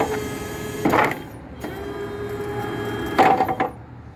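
A Komatsu forklift lowers its forks with a steady mechanical hum, broken by a few clunks and rattles at the start and near the end.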